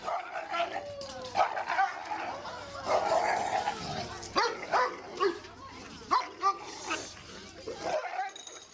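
After a fight with a cat, a dog whimpers and yelps in short, irregular bursts, with occasional sharp barks, close and fairly loud.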